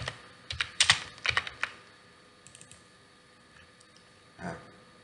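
Typing on a computer keyboard while working in Microsoft Word: a quick burst of close, crisp key clicks in the first couple of seconds, then a few scattered taps and a single soft thump over quiet room noise.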